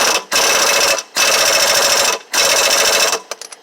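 A handheld impact wrench rattles loudly in three sharp bursts, separated by brief pauses, while tightening a blade bolt on a Ferris IS1500z zero-turn mower, close up with no talk.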